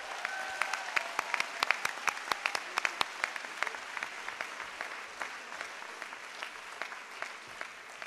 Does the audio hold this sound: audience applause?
yes